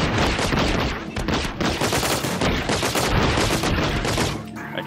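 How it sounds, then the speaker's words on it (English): Rapid weapon fire rings out on a shooting range in the game Shootout Inc, a dense, loud, continuous barrage of overlapping shots with no pauses, easing only slightly near the end. "Let's try some of our weapons. Just like a fast firing."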